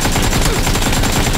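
Loud, rapid bursts of automatic gunfire from the video game PUBG, dense and continuous shots crackling close by with no talk over them.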